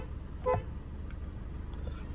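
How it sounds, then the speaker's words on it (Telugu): A car horn gives a single short toot near the start, close and fairly clear over low engine hum. "హారన్ కొడుతున్నా,"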